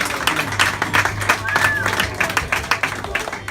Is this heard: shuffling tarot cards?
no